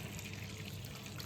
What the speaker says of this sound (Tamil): இப்போ இந்த தண்ணியை கொஞ்சம் கொஞ்சமாக விட்டு குழைக்கிறீங்க.